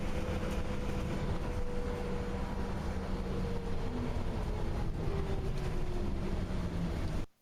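Steady drone of a bus with a ZF automatic gearbox while driving, engine pitch sliding downward as it shifts down through the gears, continuous and fairly loud throughout before cutting off at the end.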